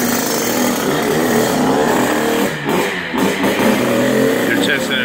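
A 2017 Kawasaki KX65 dirt bike engine runs steadily and loudly throughout, with a brief dip in the middle, close by and mixed with background voices.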